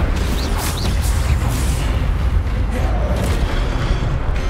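An Incendio fire spell in Hogwarts Legacy erupts as a loud, rumbling whoosh of flame, a continuous low roar with crackling bursts, close and sustained throughout.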